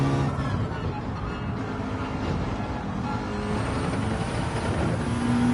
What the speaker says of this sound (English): I'm just revving it out now.